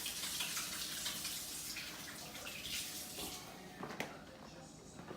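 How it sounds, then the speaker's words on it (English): Tap water runs steadily over hands at a kitchen sink while cooking fish, a continuous splashing hiss lasting several seconds, with a brief clatter near the end and a faint voice in the background. "Wash my hands real quick."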